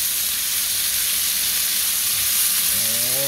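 A steady, loud sizzle of cola chicken wings frying in a pan as lemon is stirred in, continuous hiss throughout with a brief higher squeak near the end.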